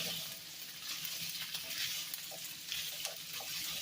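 Garlic sizzles and crackles while being stirred around in a pot as the base for lentil soup, a continuous moderate frying hiss with soft scraping movements.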